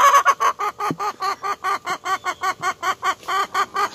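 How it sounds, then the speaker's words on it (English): A brown speckled chicken clucks in a fast, even series of about twenty short calls. It sounds close and fairly loud, with no talk over it. "Just a brown speckled chicken."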